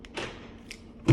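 A Seat Leon car door with a faulty lock shuts with a short, solid thud at the end, preceded by faint clicks and rustling, with no one speaking.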